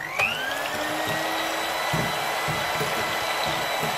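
An electric whisk beating egg whites for French meringue, whirring steadily and close throughout with faint rhythmic knocks of the beaters against the bowl.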